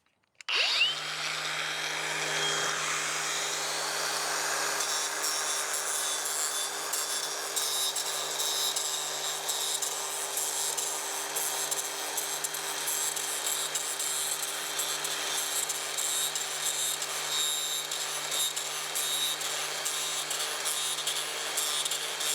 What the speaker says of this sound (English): I'm going to take my grinder and I'm going to clean it out